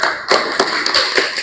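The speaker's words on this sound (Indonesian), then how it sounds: "Tepuk tangan." Students in a classroom lesson clap briefly after a group presentation, a short run of close, sharp claps with a few irregular beats.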